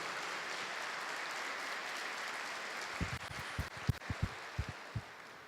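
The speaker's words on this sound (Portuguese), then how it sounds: "Então, dá uma salva de palmas" A church congregation breaks into scattered, fairly faint clapping over room hiss, a dozen or so separate claps building up over the last couple of seconds.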